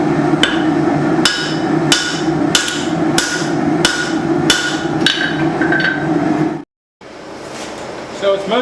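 A hammer strikes hot spring steel, thinning a forged cleaver blade in evenly spaced, ringing blows, about eleven of them, loud and close, then a brief silence and lighter handling noise.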